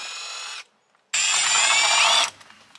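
A power drill or driver spins out the screws of a Perodua Kelisa's under cover in two bursts, a short one then a longer whining run, loud and close, with faint clicks afterward.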